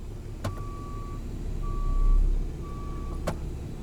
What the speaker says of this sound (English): You have a backup beeper.